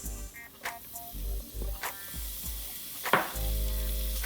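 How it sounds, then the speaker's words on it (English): Minced garlic hitting a pan of browned onions and butter, a close, soft sizzle with intermittent low thumps and stirring scrapes, building to a fuller steady hiss near the end, no voices. "I am now going to add a little bit of minced garlic"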